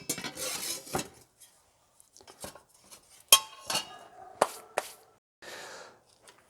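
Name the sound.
metal lantern frame being set down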